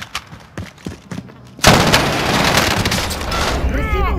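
Gunfire in Call of Duty Warzone: scattered thuds at first, then a loud, dense burst of rapid shots and booms that continues steadily, with a voice heard at the end.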